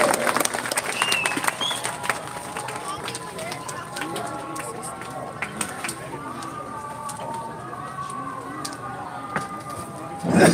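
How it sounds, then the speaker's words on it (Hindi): A crowd claps steadily in a dense, sustained patter of applause, fairly loud and close, with voices mixed in underneath. "आप लोग तालियों से उनका इस्तकबाल कीजिए।"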